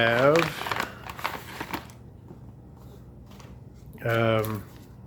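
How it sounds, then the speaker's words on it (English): A foil-lined gusseted MRE accessory bag crinkles and rustles as it is handled up close, with a person talking before and after the handling. "our accessory kit, which comes in a really nice foil lined gusseted bag"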